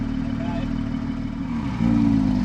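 A Porsche GT3 engine hums steadily at idle, then the exhaust note rises as it revs near the end; faint talk sits beneath it.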